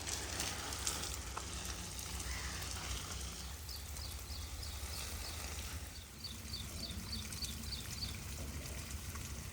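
Water splashing and trickling steadily as plants are watered in a Pakistani village, a continuous hissing flow with faint birds chirping in the background.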